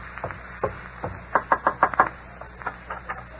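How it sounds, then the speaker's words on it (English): Knocking on a house door as a radio show sound effect, recorded aboard the battleship South Dakota: a run of crisp knuckle raps in quick clusters, several close, evenly spaced knocks, then a few softer ones trailing off, with no talk. "You wait here while I go knock."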